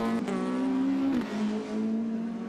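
A modified Ford race car at Mondello Park in Ireland powers hard up a hill, its engine a loud, close, rising drone that briefly dips at a gear change midway before pulling strongly again.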